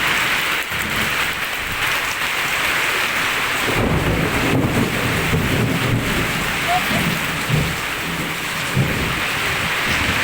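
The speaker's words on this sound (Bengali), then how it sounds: "দেখো কত বৃষ্টি হচ্ছে" Heavy rain pours down in a loud, dense, continuous roar, with low thunder rumbling underneath throughout.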